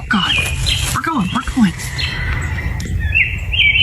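Bird chirping in a short phone clip: scattered high tweets and a couple of squawk-like calls, partly under excited voices talking throughout.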